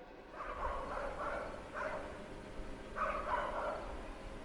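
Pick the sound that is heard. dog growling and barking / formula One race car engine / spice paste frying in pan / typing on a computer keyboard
dog growling and barking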